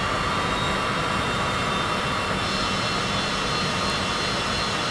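A jet engine spools up in a flight simulator video game, giving a steady, dense whooshing roar that shifts slightly in tone partway through, with no talking.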